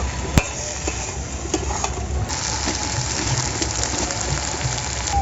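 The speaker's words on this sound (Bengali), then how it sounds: "মশলার সঙ্গে আলুগুলো আমি ভালোভাবে কষিয়ে নেব।" Boiled, fried potatoes stir-fried with masala in a pan for Kashmiri dum aloo give a steady, close sizzle, with occasional sharp clicks of a spatula scraping the pan.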